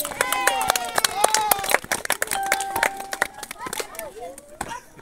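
Steady claps blend with voices and chatter at a rope-skipping session, the sharp hits coming in a quick, uneven rhythm under overlapping talk.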